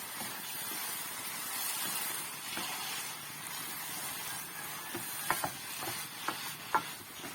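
Ladle stirring and gently mashing a lentil mixture in a pan, a steady soft scraping and sizzling texture with a few sharper knocks of the ladle toward the end.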